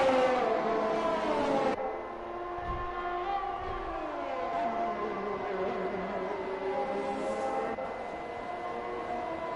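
Race car engines leaving the pits in a racing video game at the Barcelona circuit, a steady high whine with pitch shifting as cars pass, continuous and fairly loud without voices.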